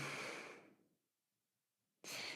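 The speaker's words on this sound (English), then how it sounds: "And full exhale." A long, soft exhale during gentle yoga breathing drains away over about a second, followed by silence and then the start of a fresh breath at the end.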